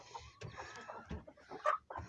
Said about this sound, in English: Most of these guys are hens.